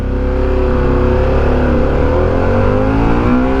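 Harley-Davidson Pan America 1250 Special motorcycle pulling away hard from a standing start, its engine note climbing steadily and loud throughout, close up with wind rush and no voices.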